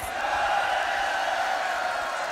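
A live crowd at the Grand Beatbox Battle 2021 World League Edition roars and cheers in one sustained, loud wash of voices answering the host, with no individual speech standing out.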